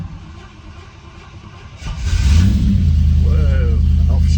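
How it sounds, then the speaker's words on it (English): A Triumph Stag engine is cranked from cold with the choke on and catches, rising into a loud, deep rumbling idle that fills the space close by, with a voice briefly heard over it. "I'm just going to crank the engine. It should get very noisy in here very quickly."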